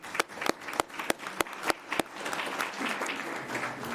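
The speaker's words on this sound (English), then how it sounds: "And a round of applause." Sparse individual claps from a small county commission meeting audience, several distinct sharp hand claps at first, then softening into a faint, low ripple of scattered applause.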